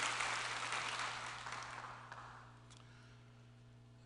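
Scattered applause from a church congregation after a solo song fades gradually into quiet, with a steady low hum underneath.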